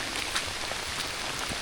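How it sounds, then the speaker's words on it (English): Steady rain falling over a riverside trail at Cahaba River on an evening hike, a dense continuous patter at close range with scattered heavier drops and no voices. "It's one thing to get caught out in the rain"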